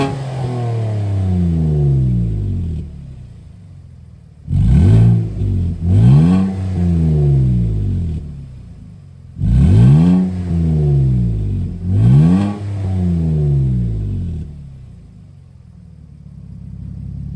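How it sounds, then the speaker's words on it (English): A 2025 Nissan Frontier with the 3.8L engine and a Super 10 muffler, started and revved four times in sharp rising bursts over a steady loud idle, with no talking. "So let me go ahead and start it up and rev it."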